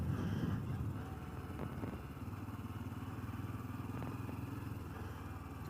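A Honda Trail 125 motorcycle rides along near a lake, its small single-cylinder engine chugging steadily and close by, loudest at the start and then holding an even running drone throughout with no talk.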